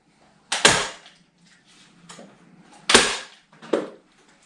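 Fixings shot into the mesh grills of a plaster corner bead on a big fireplace, three sharp loud cracks spaced apart, each with a brief rattling tail, in a quiet room.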